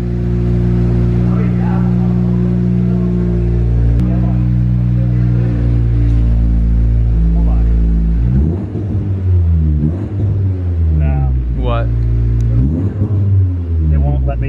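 A 2019 Honda Civic Si with a Skunk2 Mega Power exhaust, close and loud, holding a steady droning idle, then revved in several rising and falling sweeps, with people talking over it.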